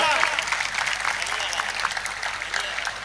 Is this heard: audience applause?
yes